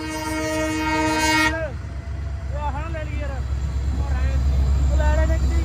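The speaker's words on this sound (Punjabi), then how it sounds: "ਟ੍ਰੇਨ ਆ ਗਈ ਆ ਕੈਮਰਾ ਫੜੋ ਜੀ" A loud, sustained train horn blares, then cuts off as the rumble of a passing train carries on, with voices talking over the noise.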